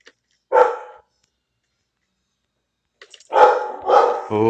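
A dog barks twice nearby while a mobile battle-royale shooter match plays on: one short bark, a pause, then louder, more insistent barking at the end.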